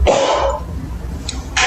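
A person at a public health and safety committee meeting coughs at close range, with a harsh burst at the start, a quieter rough tail, and sharper catches near the end.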